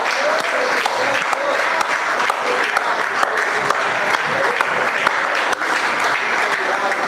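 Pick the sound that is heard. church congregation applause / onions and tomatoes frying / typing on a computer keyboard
church congregation applause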